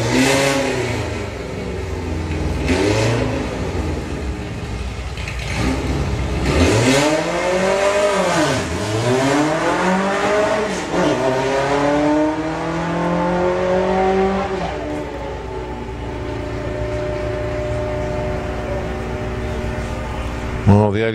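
VW car accelerating hard down the drag strip at Bug Jam, engine revving up through rising gear changes with loud, close roar under a commentator talking.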